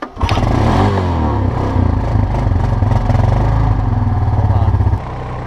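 A small engine sputters to life and runs loudly with a rough, rattling idle, revving unevenly for several seconds before dropping off.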